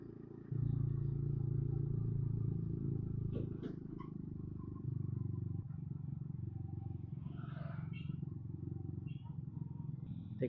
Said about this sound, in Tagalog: Ang ingay pa ng motor natin.